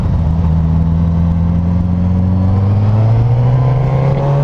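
A 2019 Suzuki GSX-S 1000F motorcycle pulls hard on the throttle, its loud, close engine note climbing steadily in pitch over several seconds with strong rushing wind noise and no talk.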